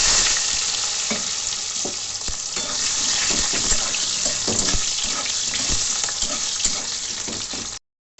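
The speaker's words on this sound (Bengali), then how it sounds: "এবার আমি আলুগুলো ভেজে নিচ্ছি।" Potatoes sizzle and crackle steadily in hot oil in a home kitchen, frying for a Bengali chitol fish muithya dish; the frying is close, loud and continuous, with no talking, and cuts out briefly right at the end.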